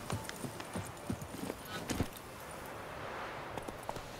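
A horse's hooves clip-clop while being ridden in The Witcher 3 video game, irregular thudding steps heard fairly close over a hissy outdoor ambience that grows louder toward the end.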